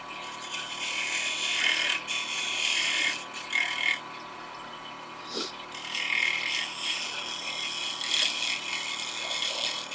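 A bowl gouge cuts a wooden bottle stopper spinning on a lathe, producing bursts of rough scraping and whirring interrupted by brief pauses, close and moderately loud.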